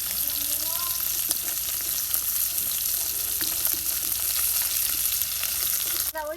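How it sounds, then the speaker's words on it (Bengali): Folui fish fries in a pan at home, giving a loud, constant crackling sizzle that holds steady throughout, with a brief stir or clatter near the end. "এরকম ভালো করে ভাজলাম মাছটা"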